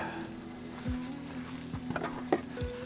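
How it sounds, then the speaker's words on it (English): Burgers cooking on a flat-top griddle at an outdoor campsite produce a steady, moderate sizzle with a few faint taps and a low hum in the background. "We got the burgers cooking on the flat packer, smelling good."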